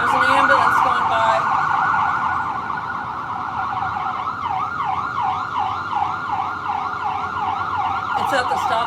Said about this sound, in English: So there's an ambulance going by.